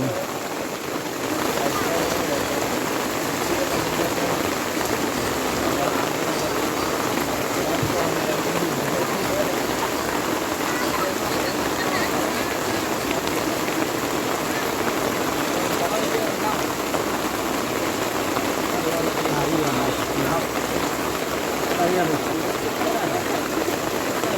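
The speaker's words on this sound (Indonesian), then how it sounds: "Dan tidak bisa pulang karena hujan ya, mungkin berteduh dulu untuk sementara" Heavy rain pours down at a cemetery, a dense, loud and continuous hiss of drops on surfaces that starts after a moment and holds steady throughout, with voices faintly talking beneath it.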